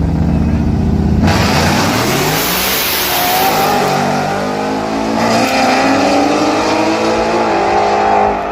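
Race cars at a no-prep drag race: loud engines rev and scream, their pitch climbing as the cars launch and accelerate hard down the strip, the roar staying close and continuous throughout.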